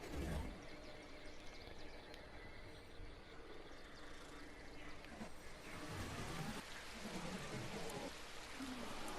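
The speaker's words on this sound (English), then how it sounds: "it started to rain" Steady rain falls in the Genesis bog area of Ark: Survival Evolved, a dense continuous patter with a faint rumble beneath, heard alone without talk.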